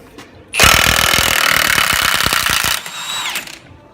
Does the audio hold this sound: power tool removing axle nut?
yes